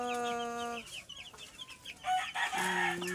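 Chicks and chickens cluck and peep close by. Short, bright calls overlap with a drawn-out, crow-like cry, fairly quiet overall with no talking.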